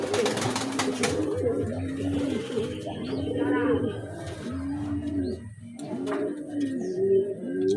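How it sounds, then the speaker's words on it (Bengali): Pigeons coo close by in repeated low, rounded calls with a regular rhythm, sometimes overlapping, while faint chirps and brief background noise come and go. "এই দেখুন পায়রাটা"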